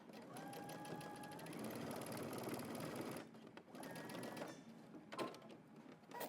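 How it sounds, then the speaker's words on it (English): A sewing machine bastes across the top of a jacket neckline, stitching steadily for about three seconds, pausing, then running in a few shorter close bursts. "I'm just going to baste the very top at the neckline"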